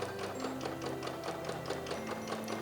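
A sewing machine stitching strips of quilt fabric runs in a steady, fast mechanical chatter, continuous and fairly quiet, close by with no talk.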